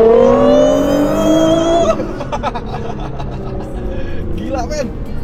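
A Nissan GT-R with automatic transmission accelerating hard: a loud engine howl climbs in pitch for about two seconds, then drops at a gear change and keeps pulling under excited talk from people inside.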